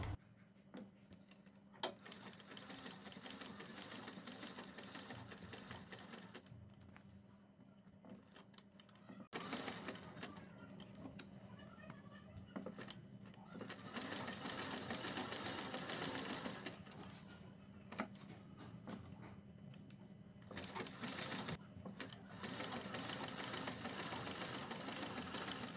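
A sewing machine runs steadily, stitching matching-colour anchor thread around the neckline of a kurti, its fast mechanical chatter continuous and close with brief pauses.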